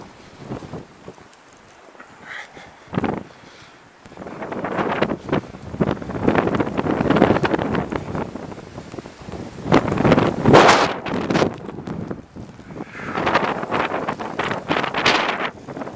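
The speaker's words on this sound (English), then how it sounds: "I have to brace myself with the wind." Blizzard wind buffets a microphone outdoors in a rough, roaring rush that rises and falls in strong gusts, loud and close, with a brief thump early on and no voices.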